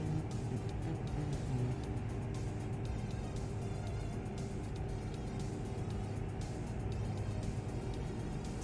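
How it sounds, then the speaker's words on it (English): A steady video-game truck engine drones at a constant pitch with a low rumble throughout. No one speaks. "I like the engine sound of this truck too."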